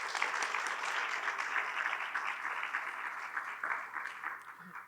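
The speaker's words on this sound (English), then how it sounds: "please offer applause to both candidates for their willingness to answer your questions tonight together on the same stage" An audience at a local tax receiver candidates' forum applauds steadily, a dense, even wash of many hands clapping from across the room for several seconds, moderately loud with no voices over it.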